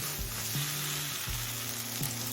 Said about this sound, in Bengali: পাঁচ থেকে ছ মিনিট সময় নিয়ে একদম লো ফ্লেমে মশলাটা কষিয়ে নিয়েছি